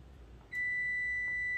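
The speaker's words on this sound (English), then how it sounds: "That's the timer to let me know that the oven is preheated to where I need it to be." A kitchen oven timer signals that preheating is done with a single sustained electronic beep that starts abruptly and holds steady, clear over a quiet room.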